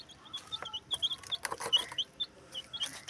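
Chickens cluck softly and repeatedly at a distance, with scattered short calls and light background rustling.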